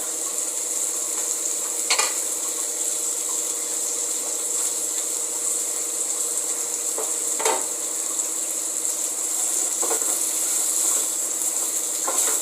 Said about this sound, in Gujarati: સ્લો ફ્લેમ પર જ કરવાનું। આની અંદર જે ભીંડા સમારીને રાખ્યા છે એ એડ કરી દેવાના।